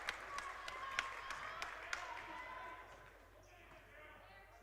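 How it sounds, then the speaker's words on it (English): Crowd applause and cheering in a gym during a varsity boys' basketball game as a player steps to the free-throw line, a busy clatter of claps with sharp individual hits that fades to a quieter murmur after about three seconds. "roar of applause for Mel was overwhelming"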